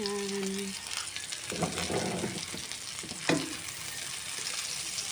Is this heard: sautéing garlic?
yes